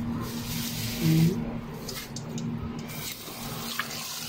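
Tap water runs steadily over milkfish (bangus) intestines being rinsed in a kitchen, a continuous close splashing stream with a faint low hum beneath it.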